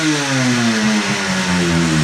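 A restored motorcycle engine revs hard and close, its pitch sliding down as the throttle eases off and then settling, loud and alone with no talking.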